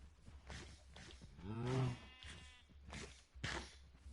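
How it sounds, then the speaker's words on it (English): Cows mooing in the video game Minecraft, several drawn-out moos one after another, moderately close and fairly quiet, with no talk over them. "Look at all these cows."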